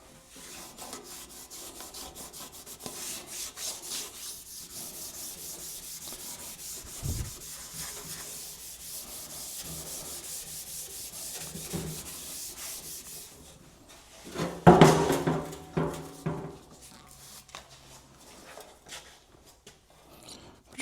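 A rag rubs over a car's rocker panel wiping off rust remover, soft repeated scrubbing strokes close to the microphone, with a louder burst of brisker rubbing and handling noise near the end.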